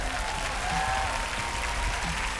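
A live crowd at a card game world finals event claps steadily, dense continuous applause filling the space for a couple of seconds with no voices on top.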